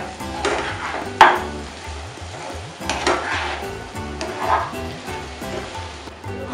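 A pan of fish curry with mint leaves and coriander is stirred, giving spoon scrapes and clinks against the pan over a soft simmering hiss, with a sharp knock near the start.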